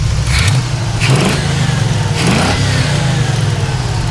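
A 1975 Pontiac Firebird Formula 350 V8 engine revs up and falls back several times, loud and close, with a steady rumbling idle between the revs.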